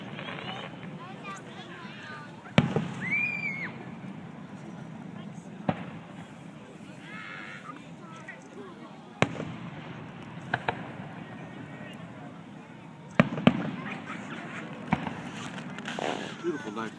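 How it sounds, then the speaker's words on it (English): Fireworks bursting at a night show in Festus in 2013: scattered sharp booms and crackles, moderately distant, punctuate steady crowd chatter as people talk nearby. "Beautiful night for fireworks."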